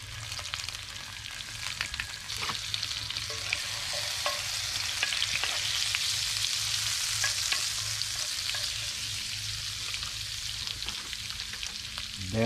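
Minced garlic fries in a hot cast iron pan over a campfire, a steady broad sizzle running the whole time with occasional light stirring scrapes, close and fairly loud, no voices.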